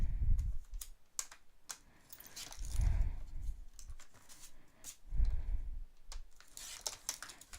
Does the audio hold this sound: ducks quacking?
no